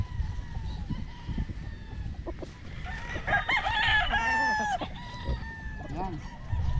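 A gamecock crows loudly and close by in the middle of a rooster selection, with clucking and other fowl calls around it over low background noise.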